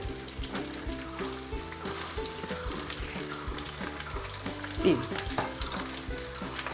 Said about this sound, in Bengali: পেঁয়াজটাকে খুব ভালো করে ভেজে নিতে হবে নরম হওয়া পর্যন্ত